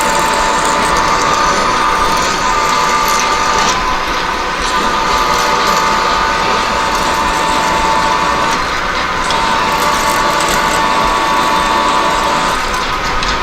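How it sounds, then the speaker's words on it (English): Steady machine drilling of a 2-inch deep hole into a steel shaft on a machinist's press, a continuous loud mechanical whine and grind with a persistent tonal hum running unbroken throughout. "we're drilling a 2-inch deep hole"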